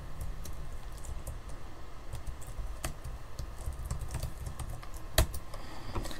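Typing on a computer keyboard, a brisk, close series of clicking keystrokes with one sharper tap near the end, steady over several seconds and free of speech.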